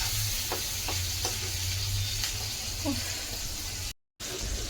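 Meat cooks in a pan with a steady sizzle and occasional stirring scrapes, close and moderate in level, with a faint voice briefly in the background.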